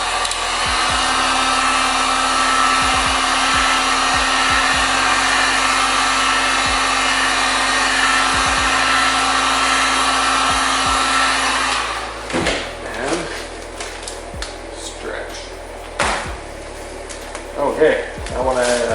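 A heat gun blows hot air onto thick black vinyl wrap film in a steady loud whir for about twelve seconds, then shuts off, leaving handling sounds of film being worked.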